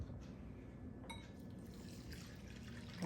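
Liquid poured into a container for Eastern Carolina style barbecue sauce, about one and a half cups of white distilled vinegar, a faint steady trickle and splash with a brief clink, no talking.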